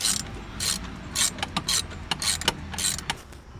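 A 10 mm socket ratchet loosens bolts on the two-stroke engine of a 2002 Bombardier DS90, producing close, crisp bursts of ratcheting clicks in quick repeated strokes.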